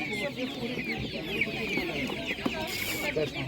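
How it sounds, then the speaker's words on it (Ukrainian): Orpington ducks quack and cluck nearby at a market in a steady barnyard chorus, several birds calling over one another with soft background noise. "Дуже класна качка орвія."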